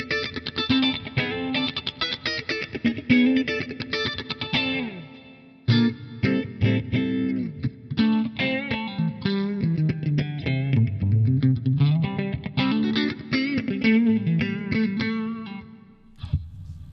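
An electric guitar runs through a Sabat phase breaker pedal on a clean amp channel, playing continuous chorded phrases with a swirling, sweeping phase effect, brief pauses between passages, loud and with no talking.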